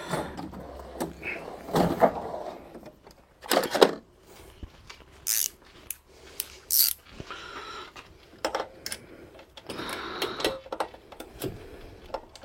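Ring spanner tightening a bolt during a clutch replacement on a Renault Twingo 1, heard as scattered close metallic ratcheting clicks and scrapes with quiet gaps between, no talking.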